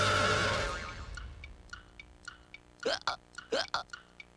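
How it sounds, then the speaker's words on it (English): A cartoon hiccup bursts out twice after a loud cartoon voice fades, each sharp squeaky gulp following faint patters, with a cartoon bomb character on the verge of blowing up. "Oh, no. Hiccups!"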